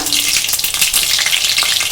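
Whole pointed gourds fry in hot oil, giving a loud, close, continuous sizzle with crackling bursts and faint stirring, with no voices.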